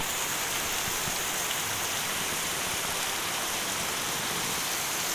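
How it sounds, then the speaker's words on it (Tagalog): Heavy rain pours steadily during the wet season amid strong flooding, a dense, even hiss of drops falling on surfaces that stays constant and fairly loud throughout with no voices. "Ang lakas ng ulan, no?"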